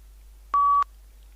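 A single short electronic beep from a PTE speaking mock test, a clean steady tone lasting about a third of a second, in otherwise near silence.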